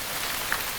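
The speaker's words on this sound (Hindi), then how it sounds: "मैंने कहा था ना कि बारिश होगी।" Rain falls in a steady, dense hiss, an even wash of drops that stays level through the brief moment.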